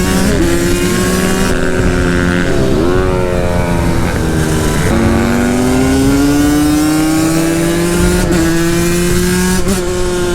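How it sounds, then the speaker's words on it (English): A brand-new 2-stroke supermoto motorcycle screams loud and close in its power band, its buzzing engine note climbing steadily through the gears, dipping briefly at each shift before rising again. "Oh man, this freaking bike hauls, dude."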